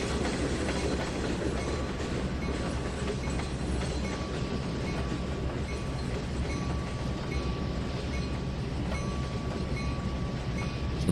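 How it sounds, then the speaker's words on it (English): A train shunting wagons in the Trainz 2019 railway simulator game rumbles steadily and loudly throughout. The rolling wheels and faint clickety-clack carry on without pause, and no voices are heard. "And then Thomas will have finished his little shunting job here"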